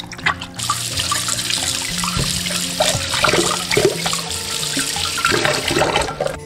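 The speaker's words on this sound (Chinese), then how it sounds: "首先把鲈鱼清洗干净" Tap water runs steadily into a sink while a sea bass is rinsed clean. The splashing and trickling shift and vary as the fish is handled under the flow, loud and close, with no talking.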